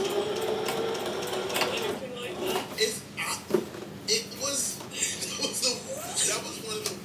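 Sewing machine stitching the sleeve onto a quilted gingham jacket, running in short uneven bursts with steady mechanical whirring, under soft talk.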